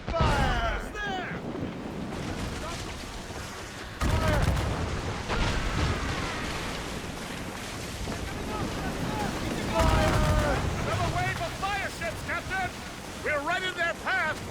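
Ship cannons boom in repeated bursts during a naval battle in Assassin's Creed Rogue, heavy blasts mixed with splashing water while someone shouts commands over the gunfire.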